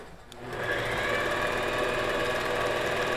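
Sewing machine doing free-motion quilting of a feather motif, starting up and then running at a fast, steady, close whir with no speech over it.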